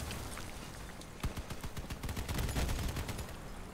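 Rapid bursts of autocannon and heavy machine gun fire in the vehicle combat game Crossout, with a dense stream of sharp, repeated shots growing louder and more frequent toward the middle and staying close.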